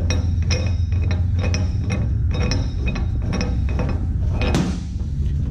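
A strap is pulled free from a metal rigging shackle, making a loud, close series of metallic clinks and rattles over a steady low hum, ending in a sharper clank.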